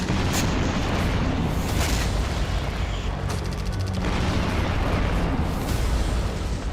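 Heavy bombardment in Ukraine: a continuous roar of loud explosions and booming blasts that overlap without pause, with sharp bursts and crackling rising out of the dense rumble.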